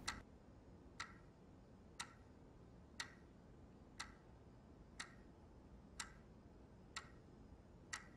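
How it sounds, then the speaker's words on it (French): A clock ticks steadily in the quiet opening of The Last of Us, one crisp tick roughly every second, about nine in a row, soft and isolated against faint background hiss. "Et voilà que la première image du jeu apparaît, avec un tic-tac en arrière-plan"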